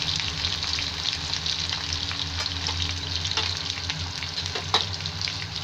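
Spices sizzling and frying in hot oil in a pan for aloo baingan, an eggplant and potato dish, with a steady close crackle and occasional stirring clinks, no talking.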